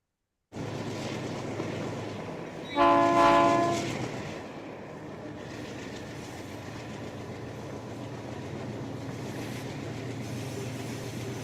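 A model railroad train runs steadily with a continuous rolling rumble, and a loud horn blast sounds near the start before the train keeps running alone.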